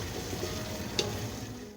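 Garlic cloves, a piece of ginger and whole white cumin frying in a pot for chicken yakhni soup, a soft continuous sizzle with one light click of a spoon being stirred.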